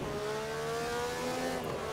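A 2.5-litre V12 Formula 1 race car of about 310 horsepower and 670 kg, in the Assetto Corsa racing game, drones steadily and loud at sustained revs, its engine tones shifting gradually with no talking.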